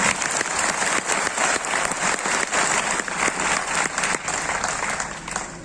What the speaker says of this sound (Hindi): बेटा बीच में एक बार जोरदार ताली उनके लिए होना चाहिए।